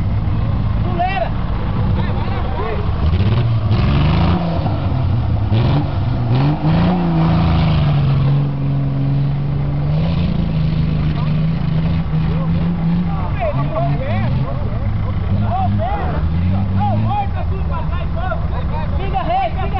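A car engine revs hard and continuously, its pitch rising and falling as it accelerates up close, with people shouting and talking over the roar.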